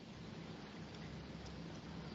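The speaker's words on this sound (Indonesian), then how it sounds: "ini adalah salah satu contoh petir" Steady heavy rain pours down in a constant wash of hiss, with a low, faint rumble of lightning thunder blended into the downpour.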